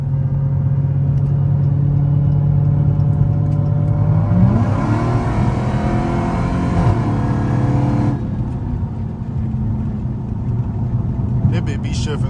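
A Dodge Hellcat in track mode accelerates with a loud engine drone rising in pitch and snapping through hard gear shifts, recorded close from inside the car while a voice talks over it.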